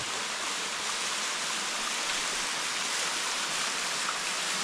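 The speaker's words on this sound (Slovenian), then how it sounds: "Ta slap se drugače nahaja v dolini Kamniške Bele." A waterfall in the Kamniška Bela valley, a tributary of the Kamniška Bistrica in the Kamnik–Savinja Alps, rushes in a steady, dense roar with no pauses.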